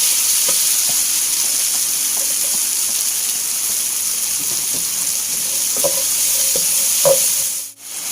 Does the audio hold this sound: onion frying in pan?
yes